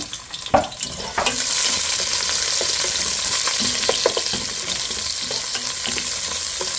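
Frozen garlic hits hot oil in a pan with a sudden crackle, then fries in a loud, continuous close sizzle, with occasional utensil clinks as it is stirred.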